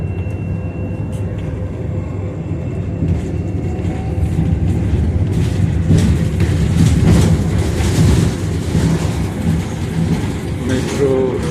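Metro train running on the line toward Laurentina station in Rome, a loud rumbling roar with rhythmic clatter of wheels that swells midway and continues throughout, with faint talk beneath.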